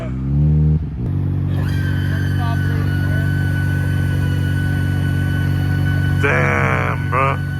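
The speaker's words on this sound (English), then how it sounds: "My exhaust is gonna scream." Loud car engine idling with a steady deep exhaust drone, rising into a brief rev around the middle-late part, close and continuous with no clear speech.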